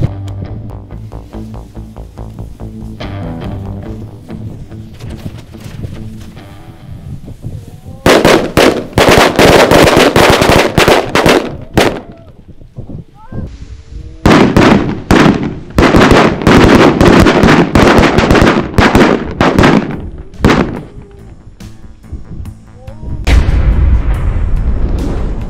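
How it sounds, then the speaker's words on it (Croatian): A whole box of linked firecrackers goes off together from a single fuse, letting loose long, dense volleys of loud, rapid bangs that come in bursts with short lulls between them. "To ti je cijela kutija šoka povezana u seriju, znači kad zapalimo ovaj fitilj, sve ove petarde će se zapaliti odjednom."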